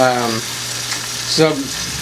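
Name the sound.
venison sizzling over charcoal and hickory coals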